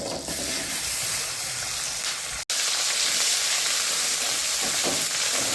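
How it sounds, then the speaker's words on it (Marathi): Ground spice paste fries loudly in a pan, a dense, steady sizzle that cuts out for an instant and then carries on just as strong. "वाटण छान परतून घ्यायचं"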